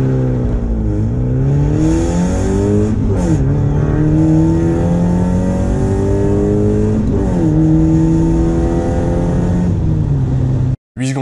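Mazda MX5 1.6 with a 1.6-litre engine accelerating hard in a 0-100 km/h run, engine revving loudly and climbing in pitch through several gears with brief dips at each shift, close up and alone, then cut off abruptly.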